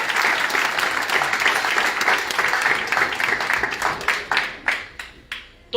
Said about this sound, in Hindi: तो ताली मार के बजा सकते हैं।